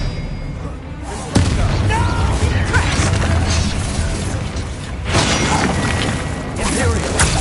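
An Expelliarmus spell fires in a Hogwarts Legacy duel, a sharp crack followed by dense, loud booming and crashing combat effects that carry on throughout.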